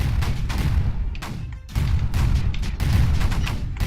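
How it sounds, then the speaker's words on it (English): Mortars firing in the video game Creeper World 4: a dense, continuous barrage of booming low thuds and bursts, loud and unbroken apart from a brief dip midway. "God, these mortars are so great."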